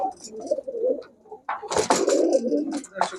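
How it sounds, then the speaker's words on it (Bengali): Pigeons at a pigeon shop, including army, punky and jhakgola breeds, coo in soft repeated rolling calls, close and fairly loud, with a brief gap and then overlapping cooing from several birds. "আর্মি কবুতর, পাঙ্কি কবুতর, ঝাকগলা কবুতর"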